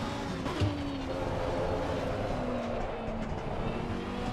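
Race car sliding in the Assetto Corsa Competizione video game: a sustained engine drone with a wavering tire squeal running across the whole stretch, loud and continuous.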